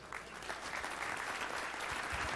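Sustained audience applause for a Kansas Sports Hall of Fame inductee, a dense, steady wash of clapping filling the hall from start to finish with no talk over it.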